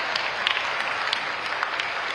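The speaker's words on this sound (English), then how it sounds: "Can we have a huge round of applause for her?" Audience applause at the closing ceremony of the International Purple Fest in Goa, a steady wash of clapping at moderate distance with a few sharper individual claps standing out, no voices over it.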